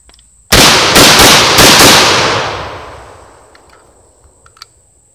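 Five quick, loud shotgun blasts from an SDS Lynx 12 firing 7.5 shot with the dust cover on, evenly spaced in about a second and a half, then a long ringing decay and faint handling clicks.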